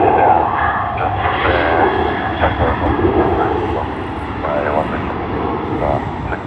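An airliner arriving at Sydney Airport gives a loud, steady engine roar close by that swells and fades slightly over several seconds, with air-traffic radio talk faintly underneath.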